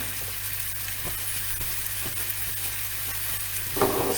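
Food sizzles steadily while frying in a pan, a constant close crackle and hiss with faint clicks of a utensil and no talking.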